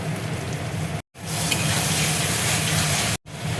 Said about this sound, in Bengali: টমেটোর পিউরিটা দেখো দিয়ে দিচ্ছি